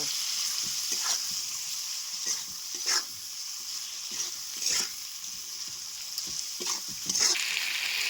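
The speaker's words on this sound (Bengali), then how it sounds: "খুব সুন্দর করে আগে কলিজাগুলো কষিয়ে নেব" Goat liver sears in oil with a dense, close sizzle, and a spoon repeatedly scrapes and stirs the pan in irregular bursts, the frying hiss running throughout.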